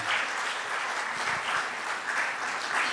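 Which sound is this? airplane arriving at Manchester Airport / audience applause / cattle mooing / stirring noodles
audience applause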